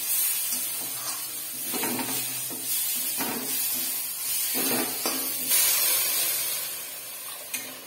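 Water is poured onto hot fried spices in a pan for paneer kalia, producing a sustained hissing sizzle with bursts of steam and occasional stirring scrapes, close and moderately loud with no voices.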